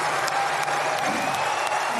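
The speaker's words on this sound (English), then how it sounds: "the crowd went wild" A crowd cheers and applauds Warren Buffett's retirement announcement, a steady dense wash of clapping and voices held at an even level throughout.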